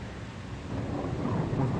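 Low rolling thunder rumbles during a thunderstorm, a short, moderately loud swell of deep noise with a soft wash of rain underneath.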